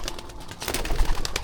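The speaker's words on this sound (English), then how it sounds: "We have pigeons out and about." Homing racing pigeons coo outdoors while being trained for a race, soft low repeated coos mixed with faint rustling and occasional wing sounds, fairly close and steady.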